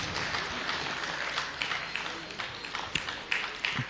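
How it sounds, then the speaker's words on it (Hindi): Audience clapping for children at a prize-distribution ceremony following a naat and speech competition: steady, fairly dense applause through the stretch, with scattered sharper claps standing out and faint voices mixed in. "चलिए तालियां बजाइए वो बच्चों के लिए।"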